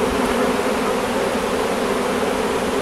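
A honeybee swarm, the first of the year, buzzes as the bees march into the hive, a dense, loud, continuous hum heard close up and alone.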